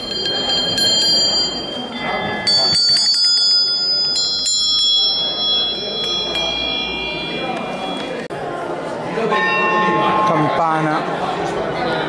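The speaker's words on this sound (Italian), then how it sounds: "Qui vediamo queste quattro campane." Bells ring at a national gathering of bell ringers in Imola, with a bright metallic peal of overlapping struck tones running throughout over crowd chatter and nearby talking.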